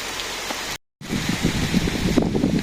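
Rain pours down in a village during a stormy day of mango gathering, with wind. It makes a continuous broadband hiss that is cut by a short silent gap and then resumes, close and fairly loud.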